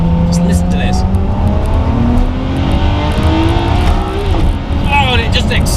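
Ferrari 599 GTO in race mode, held in second gear, its engine revving loudly and close by with a rising howl, then downshifting with sharp crackles. A voice talks over the engine.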